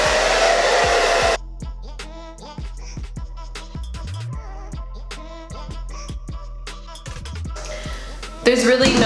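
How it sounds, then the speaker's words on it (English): A handheld blow dryer on its coolest setting at medium speed runs with a steady whoosh through the clip while someone talks over it, drying down a wig. "I'm gonna take my blow dryer, I'm gonna put it on the coolest setting on like medium speed"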